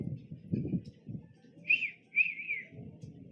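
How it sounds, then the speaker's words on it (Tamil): Myna birds and pigeons at a Karuppasamy temple in Puliyarai, Tenkasi district, give two or three clear whistled calls over a low murmur of background voices and rustling. "மைனா குருவியெல்லாம் கூப்பிடுது, புறா அடையுது"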